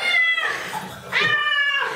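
Cat yowling loudly while being bathed, two drawn-out distressed meows in close succession, near and clear.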